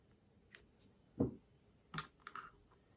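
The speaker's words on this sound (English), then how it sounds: "and then cut the yarn." Scissors cut yarn during crochet work, giving a few quiet, close, separate snips and clicks spread across a few seconds in an otherwise hushed room.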